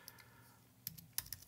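Light typing on a computer keyboard during graphic design work, a few soft scattered clicks and key taps, close and quiet, with a small burst of quick strokes toward the end.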